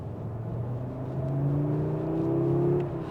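An Audi RS3 engine drones and climbs in pitch, a steady rumbling exhaust note that swells and eases off.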